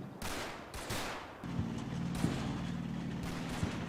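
Bursts of machine gun fire rattle in the Combat Mission: Battle for Normandy video game, two quick volleys followed by a sustained hum and distant crackle of battle.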